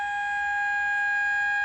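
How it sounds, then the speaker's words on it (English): Town civil-defense sirens wail in a steady, sustained tone, fairly faint and distant, with no speech over them. "These are sirens in the towns that I live in."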